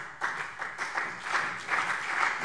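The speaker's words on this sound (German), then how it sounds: "Applaus" Members of a parliament plenary session applaud together in a steady, moderately distant wash of clapping that pulses slightly but holds even throughout.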